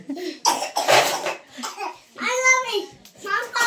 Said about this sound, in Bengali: ও কাশছে